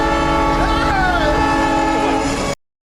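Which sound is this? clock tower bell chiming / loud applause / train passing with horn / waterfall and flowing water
train passing with horn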